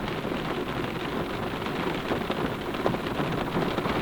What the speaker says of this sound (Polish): przyjemny taki dźwięk padającego deszczu w aucie.